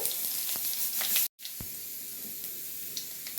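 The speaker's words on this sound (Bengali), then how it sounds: "আমি দিয়ে দিচ্ছি পাঁচ ফোড়ন" Panch phoron spices hissing in hot oil heated for frying fish, a steady close sizzle broken by a brief dropout and a sharp crackle as the seeds hit.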